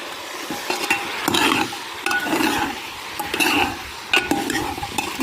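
Tempered spices for a tadka go into a pot of vegetable curry, giving a continuous hiss and sizzle under repeated scraping stirs of a spoon against the pot, close and fairly loud, with no speech.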